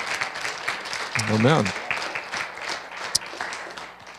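A church congregation breaks into a burst of clapping and applause at a religious meeting, building briefly and then fading, with a voice speaking over it.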